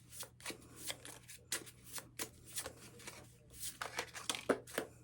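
Deck of herbal astrology oracle cards being shuffled by hand, close and soft, with repeated short riffling and sliding bursts separated by brief pauses over a quiet background hum.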